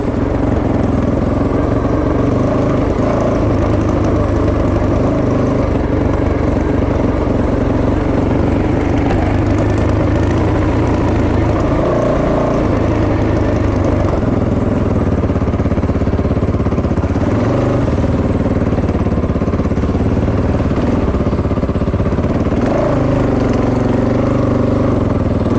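A Fantic 450 Rally motorcycle engine runs continuously and loudly up close, a steady throbbing drone with slight rises in revs throughout, no voices.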